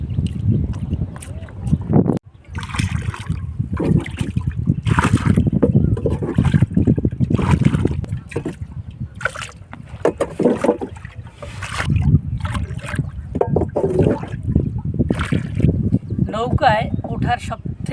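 A small wooden boat is rowed across flooded wetland water around a monsoon-bound village in Bangladesh. Paddle strokes splash and slosh steadily and close by, with voices at times.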